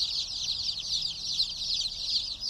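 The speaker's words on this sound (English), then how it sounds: "Right now, these chicks are just a couple days old." Baby chicks a couple of days old peep in a brooder as a dense, continuous chorus of high chirps, many overlapping and close, without letup.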